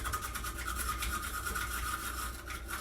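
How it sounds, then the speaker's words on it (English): A Saladmaster machine cuts a jalapeno with a quiet, close, continuous rasping rub that repeats in a fast, even rhythm over a few seconds. "just going to use the Saladmaster machine to cut my jalapeno"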